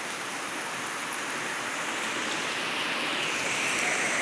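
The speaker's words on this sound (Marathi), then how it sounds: "ऐन सणाच्या दिवशी पाऊस येत आहे" Steady rain falling on a Diwali festival day, a dense, even hiss of downpour that continues unbroken and grows slightly louder toward the end, with no voices.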